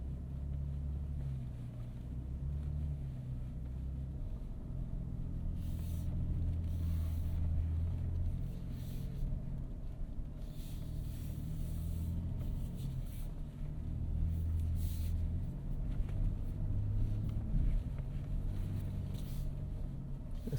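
A 2025 Nissan Armada with air suspension and Geolander tires crawls over a washed-out, slippery off-road course, its low engine rumble and drivetrain drone steady and close, with occasional rattles and bumps from the cabin.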